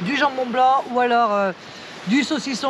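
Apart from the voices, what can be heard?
No everyday noise stands out behind the speech.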